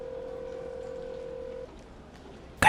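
A telephone keypad gives a steady dialing tone that stops, followed by a brief burst of noise, heard close and clear in a quiet room.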